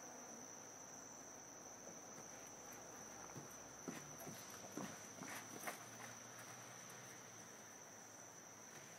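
Crickets and other insects chirp steadily in a Florida yard at night, a continuous high trill over a faint background hiss, with a few soft footsteps or thumps passing by in the middle.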